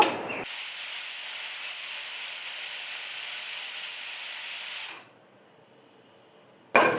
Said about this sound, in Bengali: দুইটা সিটি বাজিয়ে নেব